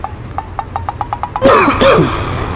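A series of short, rhythmic throat sounds gives way to a loud, harsh cough and a second strained cough, close by, in a small eatery under a railway line.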